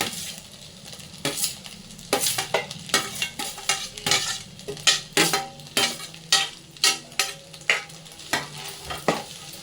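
Onion, carrot, cabbage and capsicum stir-fried with eggs for noodles, a steady sizzle broken by repeated loud scraping and clanking strokes of a utensil against the pan, close by with no talking.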